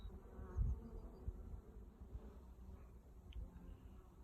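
Honeybees buzz around a newly filled hive box on a spring day, a faint, low, steady hum with occasional closer passes.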